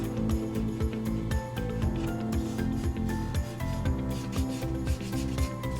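A scraper tool drags over dried chalk paste on a transfer-decorated surface, giving a continuous close rasping, rubbing scrape with rhythmic ratchet-like strokes throughout.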